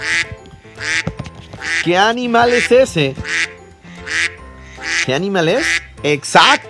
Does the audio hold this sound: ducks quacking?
yes